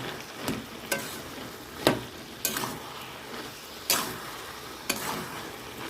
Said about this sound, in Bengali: এবার এর মধ্যে দিয়ে দেবো চিনি একটু অল্প, অল্প একটু তেল দেবো, দিয়ে ভালো করে নেড়ে চেড়ে নেব।